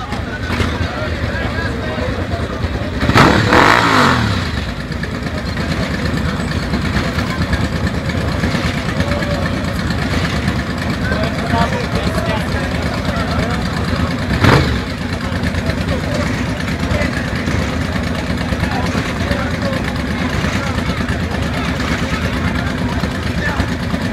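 Six motorcycles idle together at a biker club gathering, a steady low rumble throughout, with a couple of brief revving swells and people talking over it.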